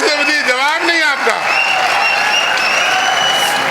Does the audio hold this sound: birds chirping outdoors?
no